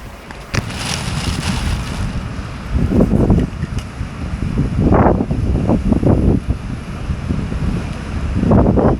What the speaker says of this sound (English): apologies for the wind if it's bad.